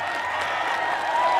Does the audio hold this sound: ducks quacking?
no